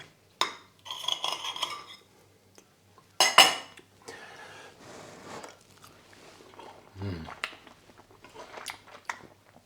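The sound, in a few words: cutlery breaking egg on gammon dish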